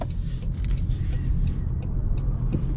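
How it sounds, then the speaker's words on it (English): Continuous low road rumble and tire noise fill the cabin of a 2025 Toyota Camry, steady and moderately loud, with no talking. "I can hear more road noise."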